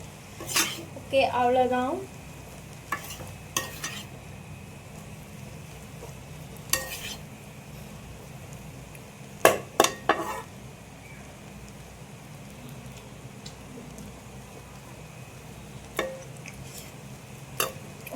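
Chicken noodles with gravy being stirred in a pan, with intermittent soft scraping and clinks of a utensil against the pan under a faint sizzle, and a brief voice near the end.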